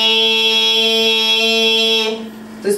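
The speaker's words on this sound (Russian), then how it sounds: "Звучит так называемый назальный звук." A throat singer holds a steady nasal tone on a high "ee"-like vowel, rich in bright overtones, sustained loudly for about two seconds before fading out with a brief breath.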